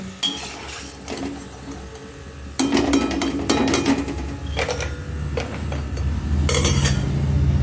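Fried crunchy snacks being scooped from the pan into a bowl, with repeated clinks and scrapes of metal utensils in bursts over a soft background sizzle.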